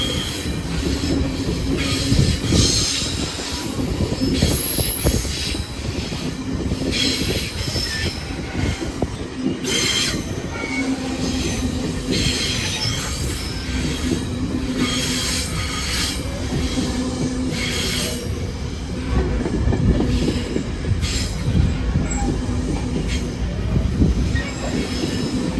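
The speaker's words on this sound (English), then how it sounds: "Still a great looking train" A GO commuter train rolls past trackside in Ontario, a steady loud rumble with high wheel squeals flaring repeatedly over about twenty-five seconds, close by and without talk.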